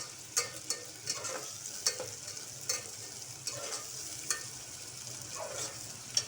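Onion and chopped tomato frying in a pan, a soft continuous sizzle broken by repeated scraping stirs at an uneven rhythm, close but quiet.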